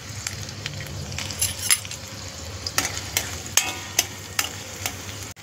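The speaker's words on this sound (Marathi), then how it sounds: "आणि टाकूया त्याच्यात गरम झाल्यावर कांदा आता लाल होईपर्यंत आपल्याला परतायचं आहे" Onion sautéing in hot oil in a pan for a Kolambi Matar masala prawn curry, a steady close sizzle with repeated sharp scraping stirs and clinks from a spatula, no voices.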